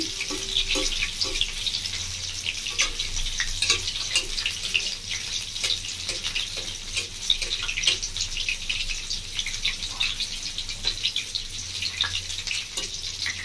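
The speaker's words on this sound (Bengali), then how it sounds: "তেল দিয়ে দিচ্ছি আমি। বন্ধুরা কিছু তেলে উঠেছি, তেলের উপর ভাজছি।" Steady crackling sizzle of mushroom pakoras frying in hot oil, continuous and close, with occasional sharper pops and no voices.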